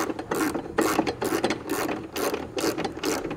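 A ratchet wrench snugs bolts on a side bracket of a BedSlide Contractor truck bed tray, with rapid rhythmic clicking bursts repeating about seven times, close and fairly loud, no talking.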